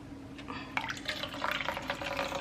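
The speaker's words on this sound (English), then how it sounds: "Then I'm going to add a splash of water that's already been pre-boiled and just been chilling in the kettle." Pre-boiled water splashes from a kettle into a dough mixture for Ghanaian bofrot, a brief steady trickle with faint dripping and liquid sounds, fairly close, with no talking.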